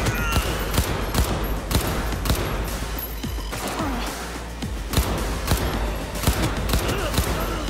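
Gunfire in Cyberpunk 2077, repeated loud, sharp shots in quick irregular bursts with crashing impacts, close and punchy over game sound.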